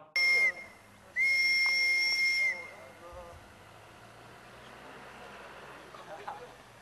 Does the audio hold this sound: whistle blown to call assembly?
yes